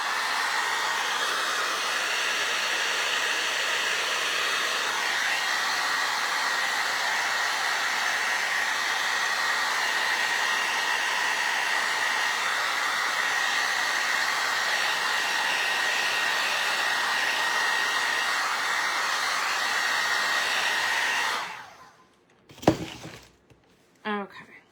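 Hair dryer blowing steadily on gilding glue for about twenty seconds, a loud continuous whoosh that then cuts off, followed by a few brief handling knocks.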